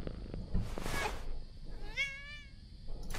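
A kitten meows in the game Halloween Chronicles: a couple of clear, rising-falling mews, close and fairly loud, separated by a short pause and heard alone without speech.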